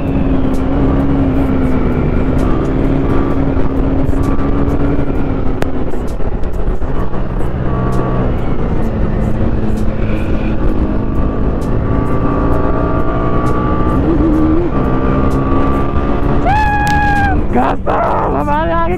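A TVS Apache RR 310 motorcycle engine roars continuously during a fast ride, its pitch climbing and falling through gear changes, with steady wind rush and brief higher whines near the end.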